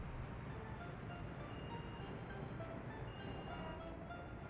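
A train in the city-building game Workers & Resources: Soviet Republic, a faint, steady low rumble of rolling wagons with light clicking, continuous throughout with no talking.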